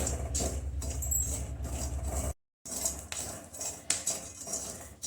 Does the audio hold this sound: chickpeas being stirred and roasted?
yes